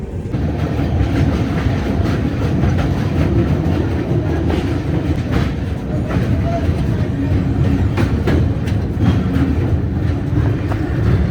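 A passenger express train runs along the rails with a dense, steady rumble and rhythmic clickety-clack of wheels over joints, loud and continuous throughout, with faint voices in the mix.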